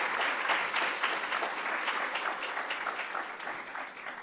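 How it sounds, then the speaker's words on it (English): An audience applauds award recipients at a Kinesiology and Health honors ceremony: steady, dense clapping from many hands, fairly distant and even, running alone without speech. "Please join me in a round of applause to our award recipients from the Department of Kinesiology and Health."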